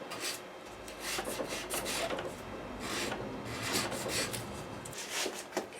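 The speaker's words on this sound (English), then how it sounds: "I've wrapped that sanding tube in 600 grit paper" Rhythmic scratchy rubbing of 600 grit sandpaper wrapped on a sanding tube, working a Les Paul guitar neck, a series of quick back-and-forth strokes, close and fairly quiet.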